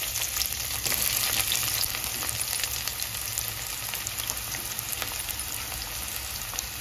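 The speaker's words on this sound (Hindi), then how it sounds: "तेल गरम हुआ है, लहसुन डालेंगे और कांदा भी डाल देंगे साथ में।" Garlic and onion frying in four spoons of hot oil for a mixed greens sabzi, a steady, crackling sizzle with scattered pops that runs evenly throughout and is heard without talk.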